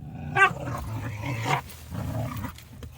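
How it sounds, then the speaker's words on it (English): Dogs growling and snarling at each other in playful scuffles, rough throaty bursts with a couple of louder yelps, fairly close. "You might hear the dogs wrestling in the background."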